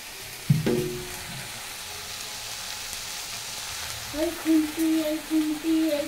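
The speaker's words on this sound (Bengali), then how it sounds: "কাঁকরোল দিয়ে সুন্দর করে একটা ভাজা। কাঁকরোল, উচ্ছে, পটল, একটু আলু, 4টে জিনিস দিয়েছি।" Kakrol, bitter gourd, pointed gourd and potato fry in a pan with a steady, close sizzling hiss. A sharp clatter comes near the start, and a voice speaks over the frying toward the end.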